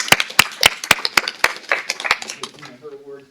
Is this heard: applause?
yes